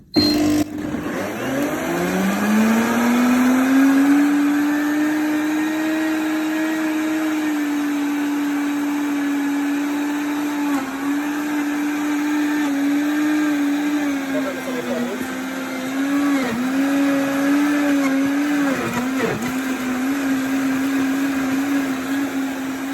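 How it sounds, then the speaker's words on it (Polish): A blender motor roars steadily and loudly for a long stretch while mixing a green smoothie with lettuce, its pitch rising at startup then holding, with small dips as the load shifts. "Zamykamy i miksujemy. Standardowo będzie głośno."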